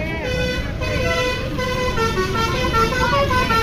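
A bus arriving at the Saung Galendo stop in Ciamis sounds its musical telolet horn, a melodic run of tooting tones layered over engine rumble, with people talking throughout.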